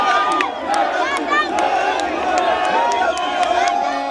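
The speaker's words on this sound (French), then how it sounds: "Émotion, joie, enthousiasme, applaudissements, cris pour savourer le deuxième sacre de léopard." Large crowd at Goma airport cheering, shouting and applauding as the national football team presents the CHAN trophy, a dense continuous roar with whoops and claps throughout, close and loud.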